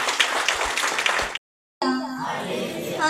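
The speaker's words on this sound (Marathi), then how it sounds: "आपण जोरात टाळ्या वाजवून प्रभू येशूला धन्यवाद देऊया" A church congregation claps loudly in thanks to Jesus, a dense burst of applause that cuts off abruptly, followed after a short gap by a voice.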